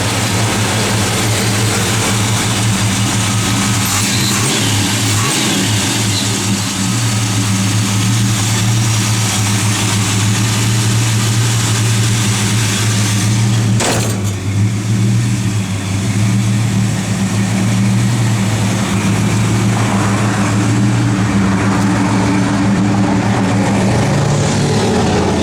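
A 1970 Plymouth GTX engine running, a loud, steady low rumble with a constant droning hum throughout, close and unbroken with no talking.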